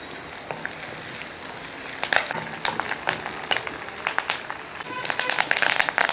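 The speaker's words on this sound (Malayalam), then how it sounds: "കൂട്ടത്തിൽ രണ്ട് മൂന്ന് വട്ടൻ മുളക് ഇളക്കി അപ്പോൾ ആ ഉള്ളി ഒന്ന് മൂക്കട്ടെ കുറച്ച് കറിവേപ്പിലയും കൂടെ ഇട്ട് കൊടുക്കുക" Onions, dried red chillies and curry leaves sizzle in hot oil for a tempering for pulissery, a steady crackle with sharp pops and spatters that grow busier toward the end.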